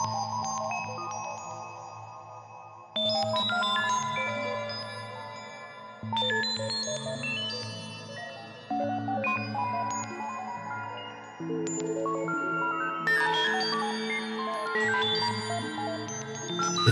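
Dark ambient synth pad built with tunnel reverb, shimmer and an added octave-up layer: sustained, bell-like tonal chords shifting every few seconds, softly swelling into a long, dreamy wash with no voices.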